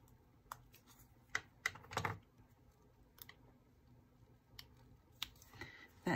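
Faint, quiet snips and crisp clicks as a paper flower petal is trimmed for a scrapbook layout, a few sharp cuts scattered through near-silence.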